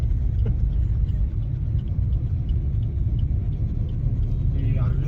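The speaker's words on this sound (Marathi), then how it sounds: "पुढची बबलीची ही 2 व्हीलर वाली काही एंट्रीला आले." Two-wheelers arrive in a birthday procession in Dehugaon, a loud continuous low engine rumble of traffic filling the whole stretch with voices faintly underneath.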